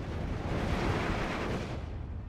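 Mortar rounds land in Steel Division 2 as a steady, rumbling wash of distant explosions that stays dense and unbroken, then fades slightly at the end.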